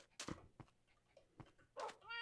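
Cat meowing in the Minecraft video game, several short separate mews spread out, the final one a longer, tonal cry, alone and fairly faint.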